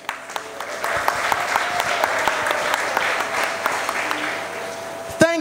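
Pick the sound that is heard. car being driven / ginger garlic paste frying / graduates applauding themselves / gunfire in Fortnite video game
graduates applauding themselves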